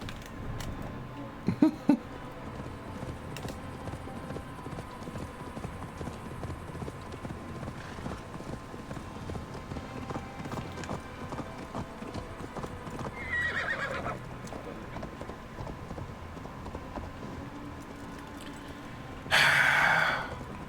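Horse in Assassin's Creed Valhalla gallops with steady clip-clop hoofbeats throughout, a brief whinny in the middle and a louder neigh near the end, with faint background game ambience.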